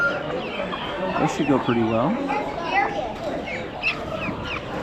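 Polish chickens cluck and call among other fowl at an Amish animal auction, with someone talking over the lively, overlapping bird noise.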